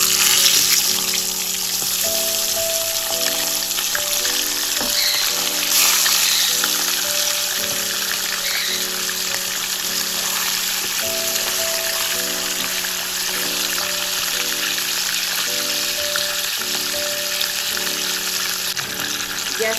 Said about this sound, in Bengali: এবার মাছটা আমরা ফ্রাই করে নেব।